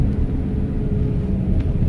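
A 2001 Toyota Hilux 2.8 rolling over a rough, bumpy road, heard from inside the cabin as a loud, steady low rumble of engine and road noise with faint rattles.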